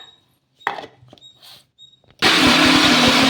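A few scattered clicks and knocks, then a mixer grinder blending rice-flour batter with a little water starts up suddenly and whirs loudly and steadily to the end.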